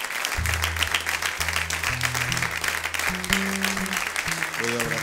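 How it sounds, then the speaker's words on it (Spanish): Wedding guests in a church applaud a newly married couple, a sustained crowd of clapping hands while low sustained organ or keyboard chords play underneath. "Le damos un gran aplauso, mi hermano, a este matrimonio."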